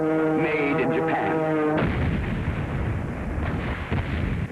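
Bombing explosions at Pearl Harbor in December 1941, with heavy blasts and a roaring, rumbling wash of debris following a tonal whine at the start, loud and sustained throughout.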